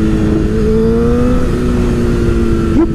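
A Honda CBR1000RR sport motorcycle accelerates hard, its loud engine whine climbing steadily in pitch and then jumping higher near the end, close and continuous, with no speech.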